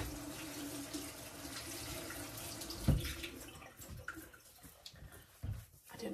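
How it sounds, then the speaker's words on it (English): Kitchen tap water running while hands are rinsed during casserole cooking, a steady close splashing wash with a brief thud partway through, then tapering into uneven trickles and clatter. "I didn't wash. I just kind of rinsed my hands"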